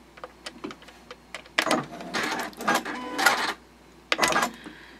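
Sewing machine stitching a fabric card clutch with a backstitch, short bursts of rapid mechanical whirring separated by brief pauses and light clicks, close and fairly quiet.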